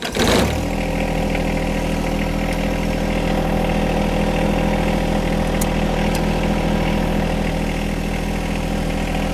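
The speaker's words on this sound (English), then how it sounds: "We're going to start the tractor, operate it in low range with 4-wheel drive engaged" A John Deere 1025R compact tractor engine fires up with a brief burst, then idles in a steady, close, even diesel hum.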